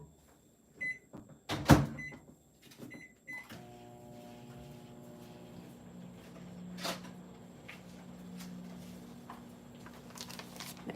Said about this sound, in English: I'm gonna pop these in the microwave and do the same thing